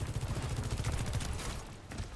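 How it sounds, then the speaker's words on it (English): A nail gun fired in a competitive video game match, giving a rapid, close, repeating rattle of shots that runs steadily and eases slightly near the end. "Nail gun powered and ready to fire."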